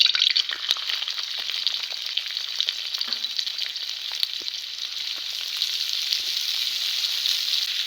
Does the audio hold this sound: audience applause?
no